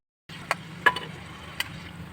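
Crispy fried potato balls tap and clink against a pan in a home kitchen, three or four sharp little knocks spaced over a soft, quiet background.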